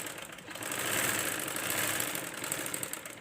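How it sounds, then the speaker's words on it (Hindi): A sewing machine stitches a sleeve with a continuous close motor whir that swells slightly in the middle, with a faint rapid needle patter and no talking. "अब इसको मैं सिलाई लगाती हूँ।"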